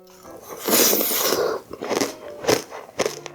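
Someone eats mango basket bingsu, shaved ice dessert made from ice, close to the mic: crisp crunching bites followed by wet chewing, with no talking.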